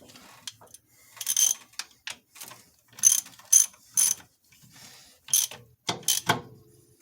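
A ratchet clicks in repeated bursts as a nut is tightened back onto the alternator tensioner of a 1998 Chevy K1500, close and clear with brief pauses between strokes and no talking.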